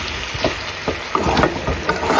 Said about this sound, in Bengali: মাংসটা কষিয়ে নিচ্ছি, কষিয়ে একদম ভাজা ভাজা হয়ে গেলে